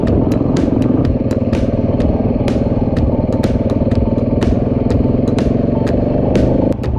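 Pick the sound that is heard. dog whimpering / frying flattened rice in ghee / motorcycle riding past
motorcycle riding past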